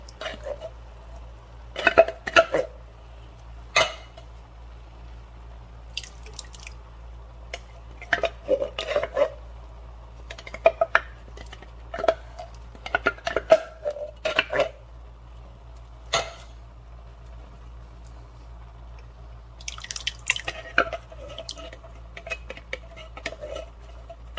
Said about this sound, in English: Get all that stirred up.